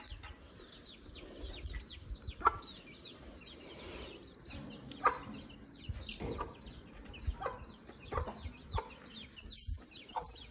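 An aseel rooster clucking in a yard, a series of short, fairly faint clucks repeating irregularly over quiet background noise, with no speech.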